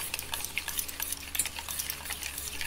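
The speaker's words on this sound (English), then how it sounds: "Now I mix it properly" Sugar and eggs are stirred together in a bowl, with a close, steady run of quick scraping and clinking strokes and no voices.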